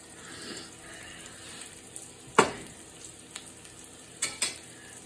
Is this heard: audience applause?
no